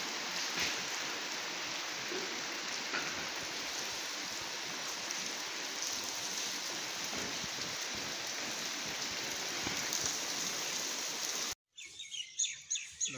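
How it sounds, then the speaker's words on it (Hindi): Heavy rain pours down in a dense, steady hiss, with faint bird chirps here and there; near the end the downpour cuts off and birds call more clearly. "बारिश की शिद्दत जी है ना वो बहुत तेज़ हो गई है"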